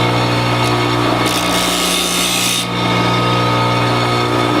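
A heavy carving chisel edge is sharpened with a continuous loud grinding rub over a steady hum, growing harsher and brighter for a stretch in the middle before settling back.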